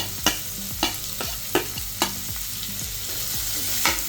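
Steady sizzling of onions frying in a pan, with a spoon scraping and stirring at irregular intervals, close by.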